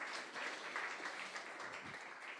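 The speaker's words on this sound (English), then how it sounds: "So then a round of applause again for Bas." Audience at an agriculture robotics forum gives a round of applause, soft, even clapping from a seated room, moderately distant and sustained without voices.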